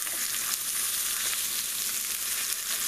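Steaks sear in a cast iron pan with a steady, loud, close sizzle that hisses on without a break; no one speaks.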